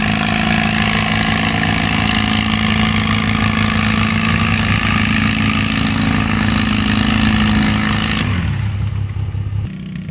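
A garden tractor roars steadily at a tractor pull, its loud engine running close and constant for several seconds before the pitch drops and the sound cuts off near the end.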